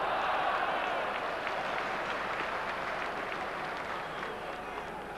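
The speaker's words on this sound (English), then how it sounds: "Applause there for Robbie Elliott." A football crowd at a 1993/94 Premier League match between Newcastle United and Swindon Town applauds Robbie Elliott, giving a broad, sustained wash of clapping that fades slightly toward the end.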